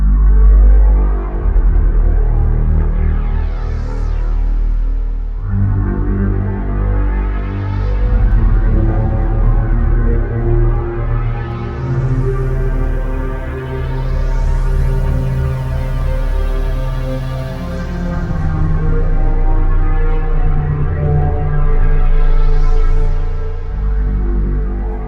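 A Waldorf Quantum synthesizer holds a low, steady drone under a long reverb tail, with slow swelling bright overtones rising and falling over a sustained, loud bed of tone.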